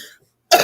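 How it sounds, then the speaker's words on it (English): A single short, loud cough bursts out at close range after a moment of near silence. "Are you coughing?"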